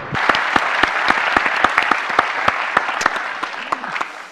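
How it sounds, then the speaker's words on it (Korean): Audience applause welcoming a speaker at a climate change and green growth plenary session, a dense steady clapping with sharp individual claps standing out across the whole stretch. "큰 박수로 맞이해 주시기 바랍니다."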